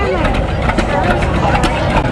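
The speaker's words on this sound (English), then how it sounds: "That thing puttering along there, sounding good." A John Deere tractor putters along in a Fourth of July parade in Loganville, its mid-pitched engine running steadily under someone talking nearby.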